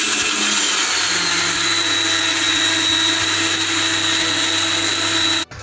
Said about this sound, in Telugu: కొద్దిగా నీళ్ళు పోసుకొని మిక్సీ పట్టుకోవాలి.